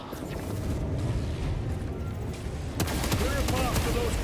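Gunfire in the video game Warhammer 40,000: Space Marine 2, heavy weapon fire in dense rapid bursts over battle noise and booms, loud and close, with no voices heard.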